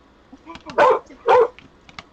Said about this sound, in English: Sorry for the dog.